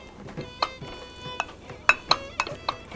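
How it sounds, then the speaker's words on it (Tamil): Capsicum and vegetable mixture for a grilled vegetable and cheese sandwich mashed in a bowl, a series of irregular sharp clinks and taps of a utensil against the vessel, close and distinct. "ரெண்டையும் நல்லா மேஷ் பண்ணிக்கோங்க."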